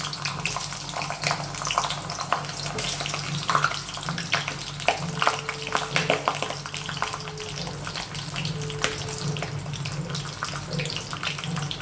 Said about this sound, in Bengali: লাল লাল করে পটলগুলো ভেজে নিলাম